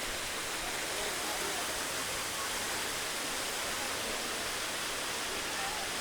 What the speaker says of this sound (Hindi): तो ये नज़ारा है यहाँ का बी वाटरफॉल का